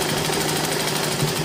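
A sewing machine stitches fabric for a girl's frock with a dense, steady whirr, close and continuous with no voices.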